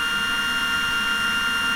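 The motors of a Hubsan Mini 1-inch drone spin up and run as a steady, even high-pitched whir with no talk.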